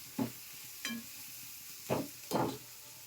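Chopped onions fry lightly in a pan with a quiet, steady sizzle, broken by four short scraping stirs of a spoon against the pan, close by and with no talking.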